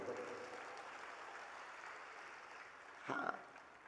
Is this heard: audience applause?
yes